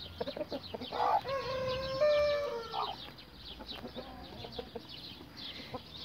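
Brahma rooster calling hens on a farm, a short rising call followed by soft clucking from the chickens, fairly faint with outdoor background noise.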